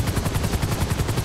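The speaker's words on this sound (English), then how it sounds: "Check out this helicopter." Helicopter in the video game GTA V, a rapid rhythmic rotor chop with a throbbing low engine drone, steady and fairly close, with no speech over it.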